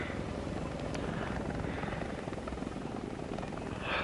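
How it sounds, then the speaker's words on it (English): A steady video-game helicopter rotor drone fills the whole stretch, loud and continuous with a broad engine roar underneath. "that's just every helicopter in the game, Big Nuts."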